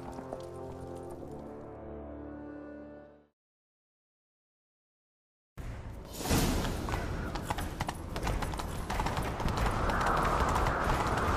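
Horse hooves gallop in The Witcher 3: Wild Hunt, a dense, steady clatter, following a short musical passage and a few seconds of silence.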